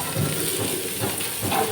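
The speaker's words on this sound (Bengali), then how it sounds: "ফুলকপি আর পেঁয়াজটা ভাজা ভাজা হয়ে গেছে" Cauliflower and onion frying in a pan on low flame, giving a steady close sizzling hiss without pause throughout.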